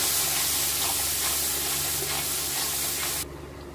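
Turmeric powder and salt sizzle in hot oil while being stirred for a Bengali basanti pulao, a loud, close, dense hiss that cuts off abruptly near the end to a low hum.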